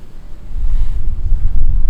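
Strong wind buffets the microphone in a heavy, continuous low rumble that surges and swells throughout.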